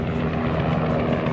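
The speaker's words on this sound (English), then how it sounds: "As you hear, helicopter." Helicopter flying overhead at a rally start among race cars, a steady, moderately loud rotor drone with a low throbbing pulse, no voices.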